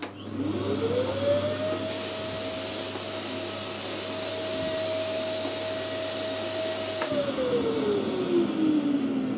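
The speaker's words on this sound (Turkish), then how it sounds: "elektrikli süpürgemizi çalıştırıp Evimize süpürge tutuyoruz" A vacuum cleaner runs steadily and loudly with a constant whine, winding up at the start and powering down near the end.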